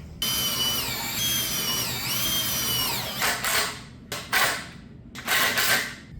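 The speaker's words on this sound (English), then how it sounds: "pre-drill first and install these screws" A power drill pre-drilling screw holes in a wood frame for a turkey poult enclosure: a long whining spin that changes pitch, then several short bursts, loud and close.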